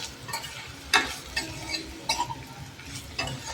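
Salted eggplant mixture stirred in a hot pan over a large gas flame, a low sizzle punctuated by several sharp spoon scrapes and clicks against the pan.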